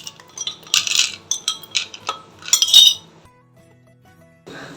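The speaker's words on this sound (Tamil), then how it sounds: "கிளாஸில் ஐஸ் க்யூப் சேர்த்துருங்க." Ice cubes clink sharply into a glass in a quick series of bright taps and rattles, then a pause and a final soft clatter, close and clear.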